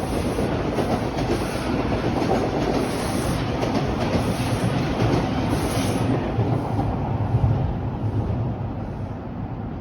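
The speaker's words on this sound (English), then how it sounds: "here comes the eastbound train heading towards Royal York." An eastbound TTC Line 2 subway train pulls into Royal York station on the Toronto subway, a loud steady rumble of wheels and cars close by with faint clacking, continuous and without speech.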